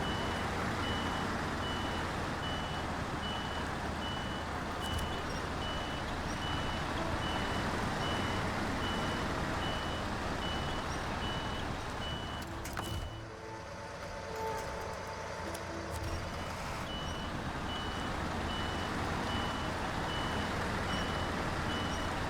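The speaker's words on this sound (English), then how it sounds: "Got such a pleasant backup beep, too." Repeated reversing backup beeps from a truck in the video game SnowRunner, a steady evenly spaced tone over a constant engine rumble, fairly loud and continuous with no talk.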